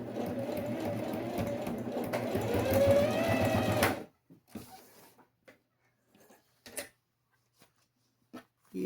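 A sewing machine runs a continuous closing seam on a zippered glasses case, a close, steady whir for about four seconds before stopping, followed by faint handling clicks and taps.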